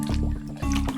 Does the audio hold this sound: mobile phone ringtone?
no